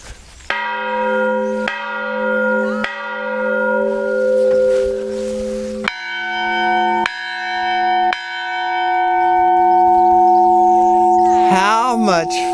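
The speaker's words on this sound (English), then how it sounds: "You can actually ring the bells." Bells rung by hand at a ruined church in Muxia on the Camino de Santiago, clanging in a series of loud, close strikes whose long ringing tones overlap and fade, changing pitch partway through, with a brief noisy scrape at the end.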